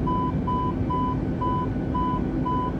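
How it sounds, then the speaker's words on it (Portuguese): Cockpit alarm beeping in an Airbus A320 in Microsoft Flight Simulator 2020, a steady repeating tone pulsing about twice per second over a constant loud engine and cabin hum. "Que alarme pra todo lado aí"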